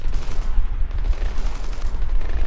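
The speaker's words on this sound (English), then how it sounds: "We're hearing small arms fire in the terminal, Sam." Small arms gunfire crackles through a terminal in the stealth shooter Splinter Cell Blacklist, a dense, continuous rattle of shots with low booming weight, steady and fairly loud throughout.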